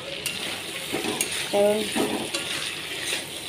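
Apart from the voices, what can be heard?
food being sautéed in a pan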